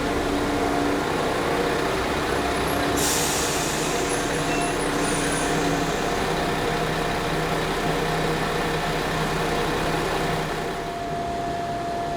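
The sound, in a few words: Class 172 train leaving station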